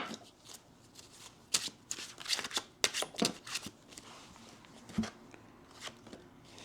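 Tarot cards being shuffled by hand, a series of soft crisp riffles and snaps in irregular bursts, close and fairly quiet.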